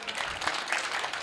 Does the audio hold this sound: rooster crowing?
no